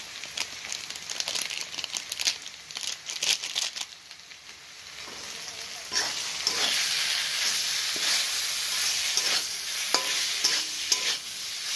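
Chicken pieces frying in hot oil with chicken masala are stirred and tossed, giving a steady sizzle with scraping and rustling strokes of the spoon throughout, close and fairly loud with no talking.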